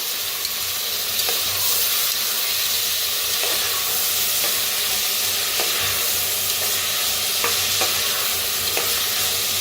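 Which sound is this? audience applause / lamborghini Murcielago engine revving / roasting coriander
roasting coriander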